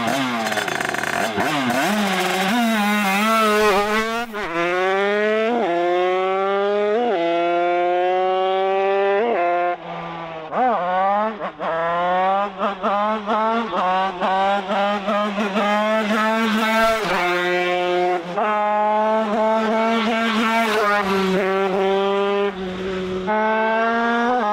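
A finished Aprilia 50cc motorbike engine revs loudly and continuously, its pitch climbing and falling in repeated high-revving sweeps with a buzzy two-stroke whine, close to the microphone with no talk over it.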